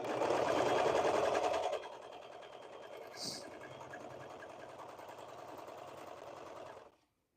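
A sewing machine stitches the shoulder seam of a knit tee, running loud and steady at first, then continuing at a lower, even hum for several seconds before stopping abruptly.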